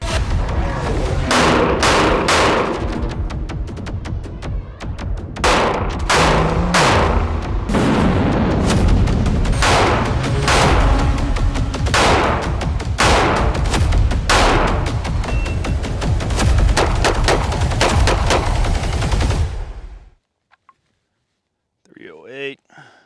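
Rapid, loud gunshots from an HK CC9 pistol firing 12-round magazines loaded with mixed ammunition, many sharp cracks in uneven bursts close to the microphone for about twenty seconds, then silence.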